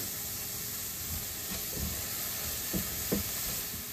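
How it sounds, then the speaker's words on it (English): Chopped onion with olive oil sautés in a single pan, giving a faint, steady sizzle with occasional soft scrapes and stirring clicks. No voices are heard. "sauteing the onion."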